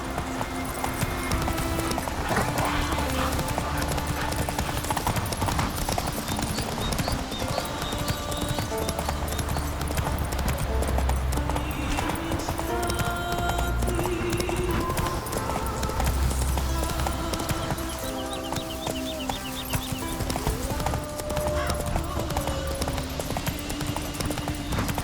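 Horse hooves clip-clop at a steady galloping rhythm throughout, close and continuous over a game's music and ambience, with a brief whinny possible; the horse is Roach in The Witcher 3 video game.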